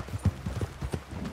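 A horse in the video game Red Dead Online clip-clops along with quick, steady hoofbeats, close and moderately loud, with no speech.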